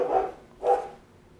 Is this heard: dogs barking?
yes